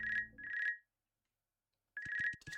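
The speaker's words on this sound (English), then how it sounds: "Please allow me to pick up the phone." A telephone rings in a video game, two bursts of electronic ringing with a gap between them, clear and close with no talk.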